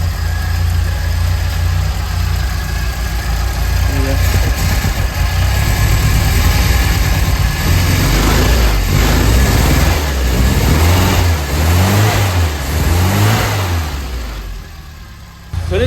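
A classic Mini engine runs loudly and close, idling steadily before revving up and down several times in rising and falling swells.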